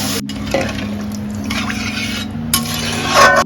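Water poured into a pan of frying spice paste for a Bengali fish-egg curry, a close sizzle and bubbling with a few stirring clinks and a louder burst near the end.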